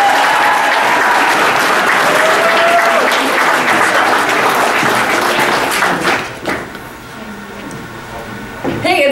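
Loud, sustained audience applause and cheering fill a cosplay contest hall, with a crowd clapping continuously before the ovation thins out toward the end.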